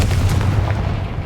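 A Confringo blasting spell bursts in Hogwarts Legacy with a deep, rumbling boom that fills the space and slowly fades.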